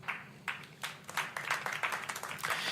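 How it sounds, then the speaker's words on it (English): A small burst of hand clapping, thin and scattered, building into quick irregular claps over a couple of seconds. "Give yourself a round of applause."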